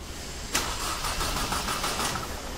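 A Mercedes C200 Kompressor with a starting fault cranks continuously after a sudden onset, the starter whirring in a steady pulsing rhythm without the engine catching. The sound is loud and close, with no talking.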